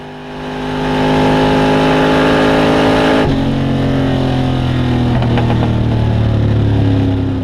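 Hemi Dodge funny car engines at a drag strip rev up to a loud, sustained roar, pitch shifting as the cars idle and climb, with no voices over the din.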